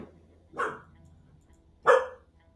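Dog barking indoors, two separate sharp barks about a second apart, fairly close and clear against a quiet room.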